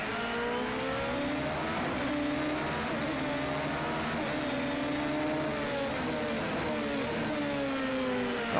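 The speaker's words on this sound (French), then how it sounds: "on va être gêné un petit peu par Ringley, qui est devant nous avec la voiture de l'équipe Yokohama" Race car engine in the Project CARS 2 video game drones steadily and loudly, its pitch rising and dipping through gear changes and throttle shifts across the whole stretch.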